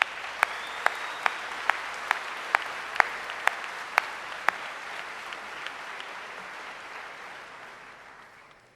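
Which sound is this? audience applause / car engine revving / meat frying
audience applause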